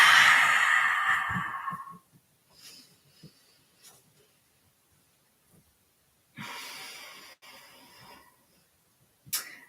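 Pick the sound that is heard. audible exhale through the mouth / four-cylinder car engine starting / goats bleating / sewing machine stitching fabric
audible exhale through the mouth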